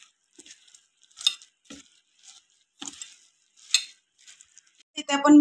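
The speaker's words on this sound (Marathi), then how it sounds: "आता त्या आपण आता हाताने चांगलं मिक्स करून घेऊ" Ingredients for a children's tiffin are mixed by hand, with soft, scattered squelching rustles in short separate bursts, ending in a brief louder tonal sound.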